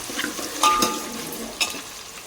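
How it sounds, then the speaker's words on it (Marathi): Onion fries in oil with cumin and curry leaves, a soft sizzle broken by a few scraping stirs and light clinks of a spoon against the pan, close and without voices. "कांदा घातला आहे मस्त असा घ्यायचा भाजून एक दोन ते तीन मिनटं"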